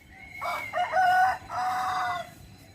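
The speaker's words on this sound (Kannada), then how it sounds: "ಹುಂಜ ಕೂಗ್ತೈತಿ ಈಗ ನೋಡಿರಿ" A rooster crows once, outdoors in the early morning around a quarter to seven with rain about. The long, loud crow rises, breaks briefly, then carries on before fading, with no talking over it.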